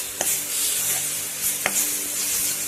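Cumin, turmeric and coriander powder sizzle steadily in hot oil while a spoon scrapes through them in a few brief strokes, close by and without talk.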